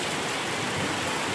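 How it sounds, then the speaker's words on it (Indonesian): Heavy rain pours down in a dense, steady hiss, even and continuous throughout, with no voices. "Ini hujan deras"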